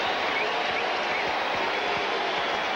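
A stadium crowd at a 1998 Giants at Cardinals baseball game cheers and claps in a steady, dense roar that fills the whole stretch without pause.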